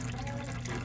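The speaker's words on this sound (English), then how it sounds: "So I'm gonna let that drain all the way," Power steering fluid trickling out of a 2008 Dodge Nitro during a filter install, a soft continuous pouring wash, close and faint.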